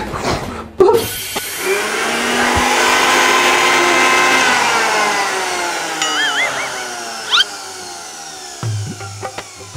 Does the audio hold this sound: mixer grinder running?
yes